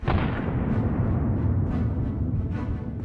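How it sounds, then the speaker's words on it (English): A deep, rumbling blast from a tank hitting a landmine, with sustained roaring low noise, loud and heavy, followed by a few fainter thuds. "Look at that spectacular explosion again."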